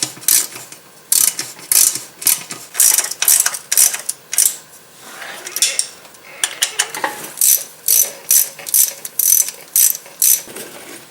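Ratchet wrench tightening the transmission pan bolts on an MK4 VW Jetta, heard as repeated bursts of close, loud clicking strokes with short pauses between them, with no talking.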